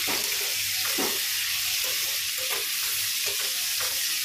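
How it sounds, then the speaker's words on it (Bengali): Elephant foot yam curry cooking in a pan gives a dense, even sizzle close by, punctuated by soft stirring scrapes. "দেখো এখানে ওলের তরকারিটা বসিয়ে দিয়েছি"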